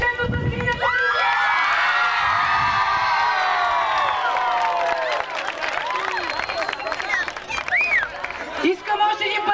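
A crowd of children cheers, shouts and claps for a boy on stage, with high excited voices swelling loudly and then breaking into scattered shouts and claps.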